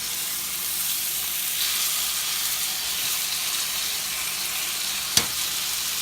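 Steak frying in a pan at home, giving a steady broadband sizzle from start to finish with one brief sharp spit or crackle near the end, and no voices.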